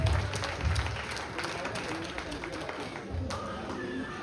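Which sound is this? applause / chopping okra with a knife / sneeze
applause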